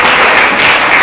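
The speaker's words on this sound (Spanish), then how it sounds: "Oye, un aplauso, esto ha estado genial" Loud, steady applause from an audience in a city hall auditorium, a continuous wash of close clapping with no pause.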